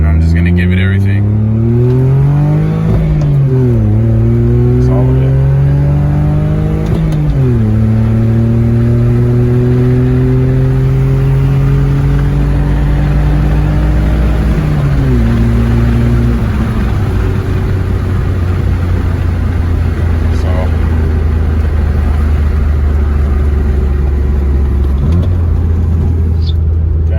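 BMW E46 drift car with a solid-mount shifter accelerating hard through the gears, engine note climbing in repeated loud rising sweeps with brief drops at each shift, close and sustained throughout.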